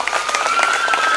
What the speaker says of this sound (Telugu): మరి అలాంటి అమ్మకి ఒక పెద్ద క్లాప్స్ ఇవ్వండి